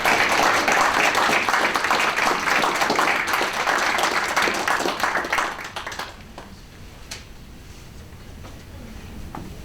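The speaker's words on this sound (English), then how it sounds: "let us give a round of applause to our speaker" Audience applause for a speaker at a talk fills the room with dense, steady clapping for about five seconds, then fades to scattered claps and quiet room noise.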